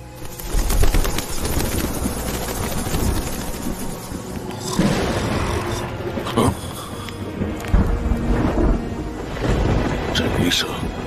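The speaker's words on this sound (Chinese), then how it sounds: "这雷声 听上去不太对。" Thunder rumbles and cracks in a sudden rainstorm in a fantasy drama scene, with heavy booms recurring over a dense, noisy backdrop while voices are faintly present.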